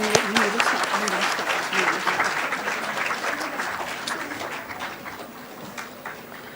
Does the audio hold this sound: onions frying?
no